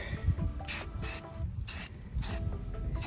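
Short bursts of spray primer hissing from a can onto metal armor, five distinct sprays in quick succession with brief pauses, close and fairly loud, no talk.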